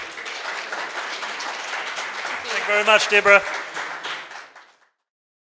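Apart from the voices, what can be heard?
audience applause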